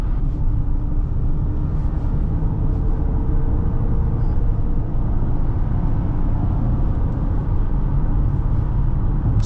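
A 2015 Honda Pilot LX 4WD accelerates on a highway during a 0 to 60 run, heard from inside the cabin as a steady, dense low engine and road rumble with no talking.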